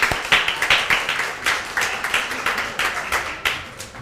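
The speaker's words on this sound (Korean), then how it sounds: "우리 환영의 박수로 맞이합시다" A church congregation at a Sunday service gives welcoming applause, a steady run of many hands clapping together for about four seconds, fairly near and without talk.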